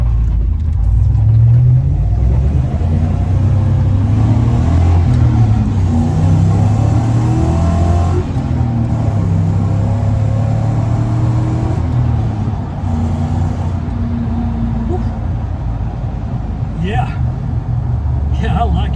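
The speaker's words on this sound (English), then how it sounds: "We're going to accelerate from first gear." LS-swapped car with a six-speed manual accelerating hard from first gear, a loud, steady engine rumble and rising drone that fills the whole stretch, close and continuous, with a voice speaking over it.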